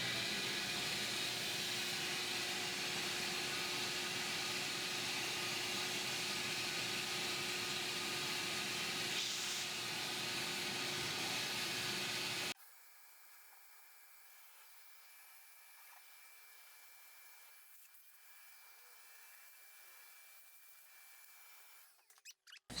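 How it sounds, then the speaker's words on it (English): A vacuum cleaner runs loud and steady while a coffee roaster fan is cleaned, then cuts off abruptly about halfway, leaving quiet room tone and faint handling. "have the vacuum going at the same time with this little paintbrush that I have"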